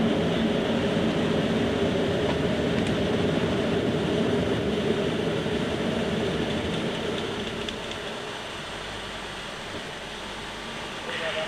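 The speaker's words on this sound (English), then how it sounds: "You can hear possibly the sound level on the flight deck here has decreased quite a lot. That airflow noise we were getting before has now diminished." Steady broadband airflow roar on the Aérospatiale BAC Concorde flight deck after the nose and visor are raised for high-speed flight, continuous and fairly loud, easing slightly toward the end.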